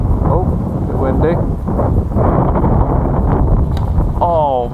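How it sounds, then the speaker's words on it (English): Loud wind buffeting and rumbling across the microphone outdoors, with people talking over it, at the first flight of an HK L4 Grasshopper model airplane. "Oh, a bit windy."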